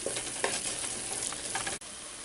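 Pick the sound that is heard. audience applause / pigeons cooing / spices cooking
spices cooking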